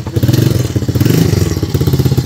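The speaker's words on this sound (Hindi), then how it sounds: "भाई वैस मोटरसाइकिल क्रॉस करवाने लगा है लाइनें" A motorcycle crossing railway tracks rumbles steadily close by, its engine note running throughout with faint clatter and bumps from the rails.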